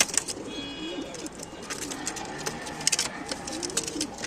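Racing pigeons coo softly nearby in low, repeated murmurs, with fluttering and scattered clicks in the background.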